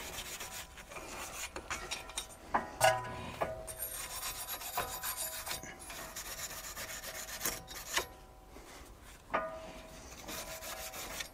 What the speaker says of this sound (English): So the extra exercise of wire brushing will be just